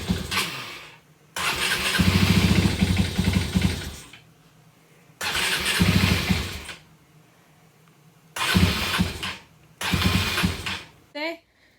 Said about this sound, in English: Maybe I should just turn my carburetor off because it fired up first time.